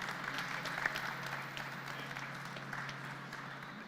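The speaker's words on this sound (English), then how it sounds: "can we have a very, very big hand clap for our panel?" An audience at an e-mobility expo applauding a panel, a fairly faint, steady patter of clapping heard from a distance that fades gently toward the end.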